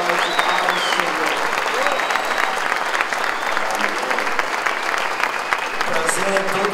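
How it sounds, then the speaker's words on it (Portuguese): Church congregation at a Baptist service breaks into sustained applause welcoming a visiting pastor, a dense steady clatter of many hands with a voice speaking over it. "Vamos receber esse homem de Deus, esses homens com forte aplauso ao Senhor"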